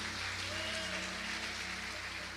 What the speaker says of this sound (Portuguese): Pode aplaudir porque é para Deus, não é para mim não